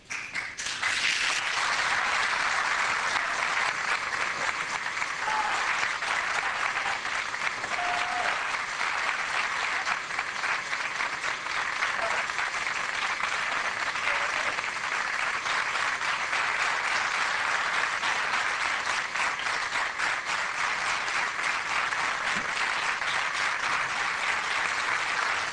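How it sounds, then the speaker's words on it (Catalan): Long, loud, sustained applause from the assembly at the constitution of the Valldoreix municipal council, greeting the newly proclaimed mayor and councillors; a thick, even roar of many hands clapping without pause for over twenty seconds, no speech on top. "va rebre amb un fort i llarg aplaudiment a la seva presidenta alcaldessa i al seu nou consistori"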